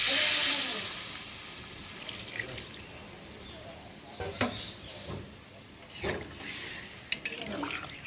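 Water poured into a spice paste frying in a hot pan sets off a loud hissing sizzle that quickly dies down, followed by quieter bubbling and a few sharp clinks of a utensil against the pan.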